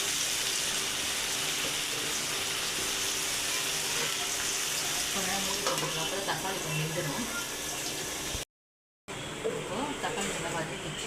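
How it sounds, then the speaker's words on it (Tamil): Tomatoes sautéing with salt in a pan, a continuous dense hiss that sounds almost like running water, steady and close, with speech over it and a brief cut near the end. "தக்காளி தக்காளி கொஞ்சம் வதங்கட்டும் உப்பு தேவையான உப்பு போட்டுக்கலாம்"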